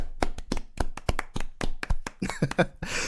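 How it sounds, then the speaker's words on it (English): A few people clap in a small room during a podcast, giving sharp, separated hand claps with an uneven rhythm before a brief noisier burst near the end. "So round of applause for him."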